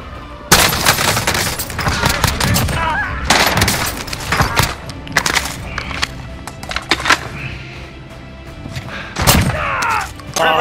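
JAK-12 shotgun blasts in Warzone fire in loud, sharp bursts amid game action and impacts, with excited voices talking in between.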